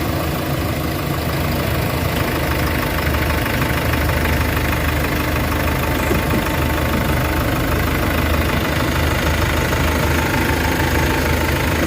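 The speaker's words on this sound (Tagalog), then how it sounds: "Paandarin mo natin para marinig natin actual yung andar ng makina" A Hyundai H100 diesel engine idles steadily after an oil change and engine treatment, a continuous close, loud knocking rumble with no pauses.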